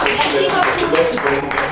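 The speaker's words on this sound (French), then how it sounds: "Applaudissez." Audience applauding contest candidates at a prize-giving game show, a dense wash of clapping close and loud throughout, with a voice speaking over the clapping.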